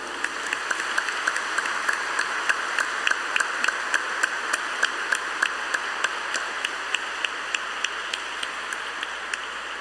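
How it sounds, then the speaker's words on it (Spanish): A church congregation applauding during a solemn Mass for the Assumption, a dense, even wash of clapping from a large crowd, fairly distant and reverberant, with a few crisper nearby claps standing out. "Yo pienso que tenemos que darle un fuerte aplauso."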